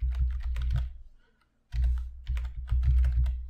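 Typing on a computer keyboard while entering a short text caption in video editing software: close, quick clattering bursts of keystrokes, a pause of about a second, then more rapid typing.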